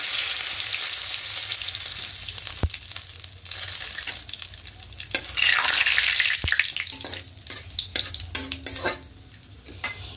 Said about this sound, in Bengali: গরম হয়ে এসেছে, ফোড়নে দেবো 5 ফোড়ন আর 2টো শুকনো লঙ্কা। আর দেবো 2টো তেজপাতা।